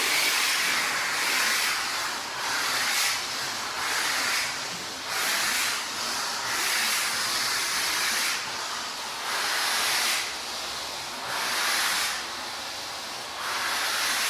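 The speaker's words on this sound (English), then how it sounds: "I'm going to do steam one more time in a weird way" A steam cleaner blasts steam onto the upholstery of a filthy 30-year-old Chevrolet Suburban's seats, producing loud, close bursts of airy hiss that pulse on and off in roughly one-second surges with brief lulls between.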